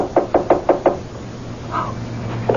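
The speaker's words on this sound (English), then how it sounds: "Just walk up the stairs and knock on the door." Knocking on a door as a radio drama sound effect: five sharp raps in quick even rhythm, close and loud, then a pause and one more knock.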